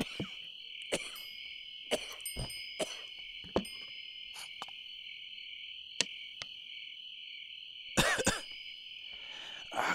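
A person coughs several times in short, sharp bursts over a quiet night background of steady cricket and insect chirping, with one heavier coughing fit near the end.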